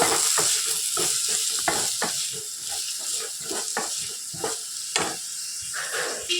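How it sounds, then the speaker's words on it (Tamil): Chopped large onions sautéing in a pan for a wheat-flour snack, a steady soft sizzle with repeated scraping and stirring clicks from a utensil throughout, close and moderately loud, no talking. "வெங்காயம் நல்லா வதங்கட்டும்"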